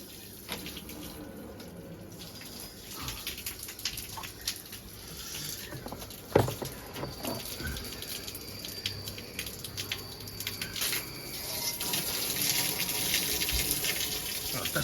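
Water drains out of a tank in a steady, close rushing flow that builds slightly toward the end, with a few clunks and one sharp knock partway through.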